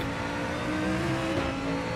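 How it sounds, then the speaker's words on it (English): Loud, continuous engine roar with steady tonal whine from race cars, including a Mustang, running at speed in the iRacing sim racing game, dense and unbroken throughout. "from the outside, the cars are just loud."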